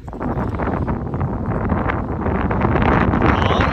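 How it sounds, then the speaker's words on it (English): Loud, gusty wind buffets the microphone in rough bursts that build toward the end, a close, blustery rumble. "Getting pretty windy"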